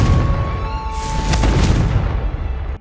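A Confringo fire spell goes off in the Hogwarts Legacy video game, a loud booming blast with a crackling burst that swells and then fades over a couple of seconds.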